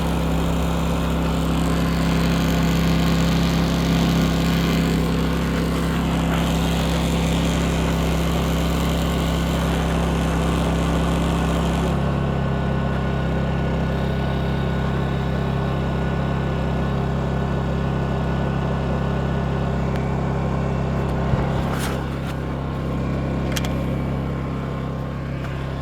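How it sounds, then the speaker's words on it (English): A portable generator runs steadily and loudly throughout, powering a water pump for an off-grid rainwater system, with a constant engine drone that shifts slightly in tone partway through. "So I'm going to plug it into the generator, so there's going to be a bit of noise."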